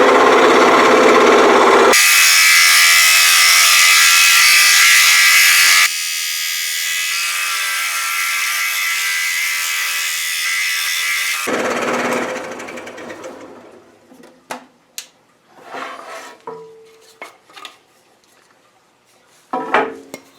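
Power saw, likely a scroll saw, cutting an alligator shape from oak, running loud and steady for about eleven seconds with a change in pitch partway, then stopping, followed by scattered clicks and wood handling noises.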